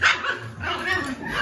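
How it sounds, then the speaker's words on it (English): Puppies barking and yipping in short, excited bursts at close range, mixed with a person talking over them. "We're crazy puppies."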